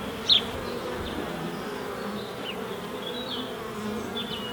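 Honeybees buzz around a hive entrance near oilseed rape, a steady humming swarm with one individual bee passing close and loud near the start.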